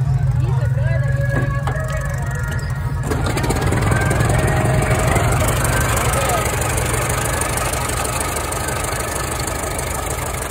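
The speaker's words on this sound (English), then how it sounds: "start it up real quick so you can hear the engine" An old 1916 Buick car engine cranks and catches, then idles with a steady, loud chugging rumble while people talk over it.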